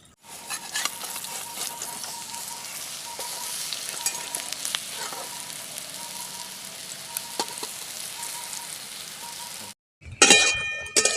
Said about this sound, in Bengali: এগুলোকেও ভালো করে ভেজে নিয়েছি এবার তুলে নিচ্ছি